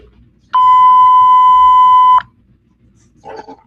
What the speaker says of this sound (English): Beep, beep. Hold on.